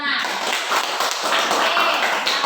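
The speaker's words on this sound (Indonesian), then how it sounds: "coba tepuk tangan" A burst of hands clapping from a group, fast and dense, continuing steadily at moderate loudness.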